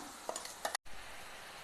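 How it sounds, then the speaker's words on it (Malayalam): Crushed shallots and chili hit hot oil for sautéing, making a soft, faint sizzle broken by a few quick stirring scrapes and a momentary dropout, with no talking. "ഇനി ഈ എണ്ണയിലേക്ക് നമ്മൾ ഈ ചതച്ച് വെച്ചിരിക്കുന്ന ഉള്ളി മുളകും ഇട്ടൊന്ന് വഴറ്റാം"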